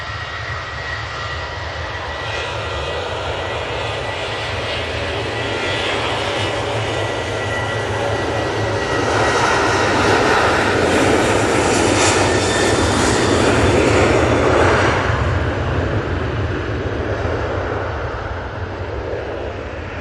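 Jet engines of a Boeing 737 bound for Antalya roar on its takeoff roll, a steady loud broadband rumble that swells toward the middle and then eases slightly.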